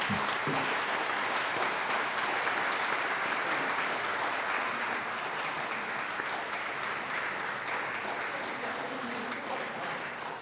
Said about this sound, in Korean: 뜨겁게 박수로 축하해 주시기 바랍니다.